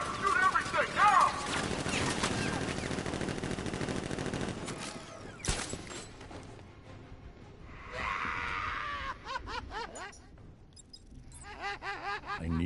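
Gunfire in Batman: Arkham Knight, with dense, rattling shots loudest at the start and then thinning to sparse cracks. Voices talk later on.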